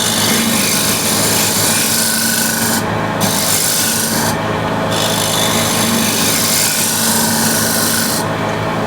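A scraper on a wood lathe cuts a sweeping curve into a spinning bowl, giving a steady, close, continuous raspy scraping with three brief dips where the tool lifts off.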